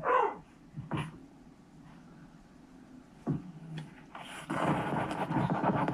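A dog's bark and brief whimpering noises come through faintly, followed by rustling, handling sounds that swell toward the end.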